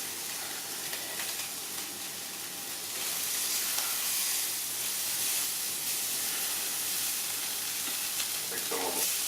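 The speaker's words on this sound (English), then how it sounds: "if you fry them too long, they're gonna be rubby in the taste" Shrimp frying in oil in a pan, giving a steady, loud, hissing sizzle with fine crackles that carries on unbroken throughout.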